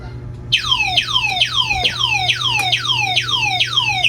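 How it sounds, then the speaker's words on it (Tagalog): The alarm on a Condy 800 motorcycle that will not start goes off close and loud, repeating a falling electronic whoop about eight times in a steady rhythm over a low background hum. "Tapos laging nag-alarm."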